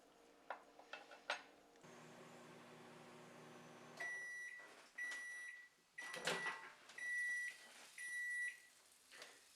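A microwave oven heating potatoes hums steadily, then its door clatters and a series of electronic beeps sound in short bursts, with light clinks of dishes nearby.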